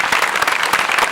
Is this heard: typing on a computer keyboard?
no